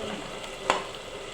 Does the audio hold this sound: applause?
no